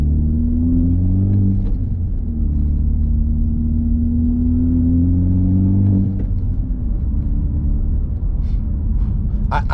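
Honda Civic Type R with muffler and resonator deleted, heard from inside as the engine downshifts, a loud raspy drone with rev blips and falling pitch sweeps, steady and close throughout.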